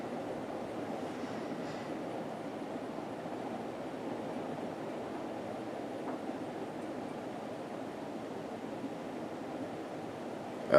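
A 1984 Casablanca Delta ceiling fan in antique white with an Asterson motor on good bearings runs at a steady speed, giving off a faint, even whir with no breaks or voices from start to finish.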